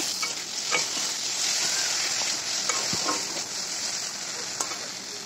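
Salt and turmeric fry in hot oil in a pan for a small-fish chorchori, with a loud continuous sizzle. Busy spatula stirring scrapes and clicks close by throughout.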